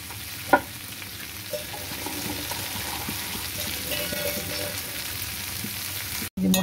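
Potatoes and spice masala being sautéed in a pan give off a close, lively sizzle, with the soft scrape of stirring, a sharp knock early on and a brief dropout near the end, without any talking.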